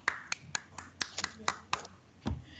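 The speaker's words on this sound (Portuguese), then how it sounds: "Palmas para ela." Scattered, irregular handclaps ring out for a student during a live online fourth-grade Portuguese lesson, a sparse handful of sharp claps spread across a few seconds.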